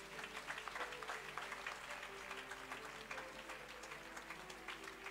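A church congregation applauds and cheers in praise of Jesus, a steady, dense wash of clapping and crowd noise that holds evenly throughout without a break.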